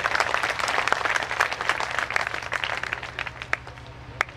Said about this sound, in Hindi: इनके लिए जोर से ताली बजाइए।